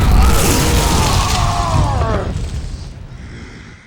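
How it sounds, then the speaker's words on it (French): A loud cartoon explosion attack from a Lego Ninjago episode roars out at once, then sweeps into rising whooshing tones that fade away over several seconds. "Akeno Darai, explosion infinie"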